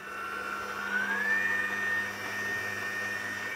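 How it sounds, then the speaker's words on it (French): A stand mixer kneads brioche-style apple dough with sugar, wine and eggs at low speed, giving a steady motor whir with a thin whine that rises slightly in pitch, then holds, close and alone. "Et là, on va pétrir 6 minutes à petite vitesse."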